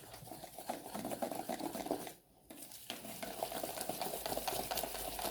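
Crêpe batter for savoury minced-meat crêpes being mixed vigorously in a bowl, a continuous fast scraping and swishing with a brief pause midway before resuming, close and fairly quiet.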